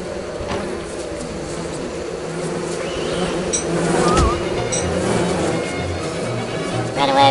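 Bees in the video game Don't Starve buzzing in a continuous, fairly loud drone, mixed with game sound effects and a few sharp blips, swelling slightly toward the middle.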